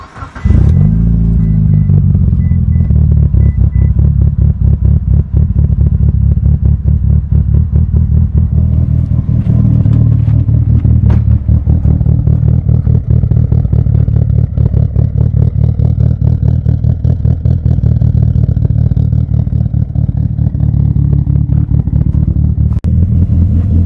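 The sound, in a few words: Mitsubishi Evo 8 car engine starting up and running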